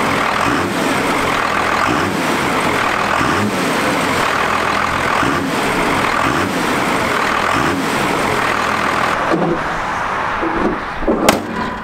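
A truck engine after a fuel pin upgrade, with the air filter back on, runs loud and close with a rough rumbling idle that swells through several revs, then drops away near the end.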